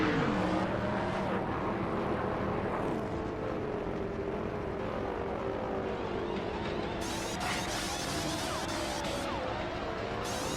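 Stock cars roar around a pit stop in NASCAR Thunder 2003 at Lowe's, engines droning and sweeping past with shifting pitch, loud and continuous, with rattling clatter joining late and no voices.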